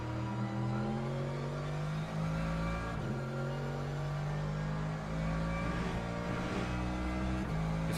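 Racing car engines in a driving video game, with a Porsche on track: a steady droning engine whine with shifting pitch harmonics, a couple of gear-change dips and cars passing, fairly quiet and continuous.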